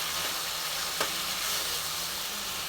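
Spiced masala sizzles steadily in hot oil as sour yogurt is stirred in for an eggplant chicken curry, a continuous close hiss with one brief clink of the spoon partway through.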